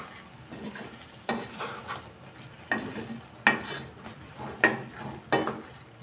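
Aloo palak sabji is stirred in a pan over low flame, with about six distinct scraping stirs spaced roughly a second apart over a faint background sizzle.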